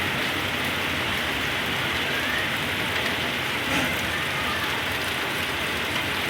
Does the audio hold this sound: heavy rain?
yes